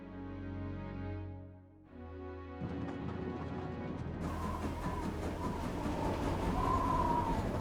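The Orient Express in a video game moves along the rails with a continuous low rumble and rhythmic clatter that swells after a quieter opening stretch.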